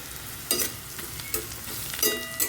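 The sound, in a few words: chopped onions frying in a pan after cumin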